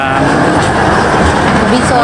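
A passenger train runs on its rails at a station in the Manila area, giving a loud, steady rumble with faint rhythmic clatter close by.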